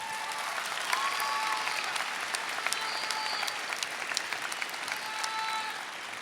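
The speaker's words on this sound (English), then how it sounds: "Let's give them a round of applause." At a high school graduation ceremony, the audience applauds in a steady, even roar of many hands clapping, moderately loud, with scattered sharper claps and occasional faint cheers or whistles.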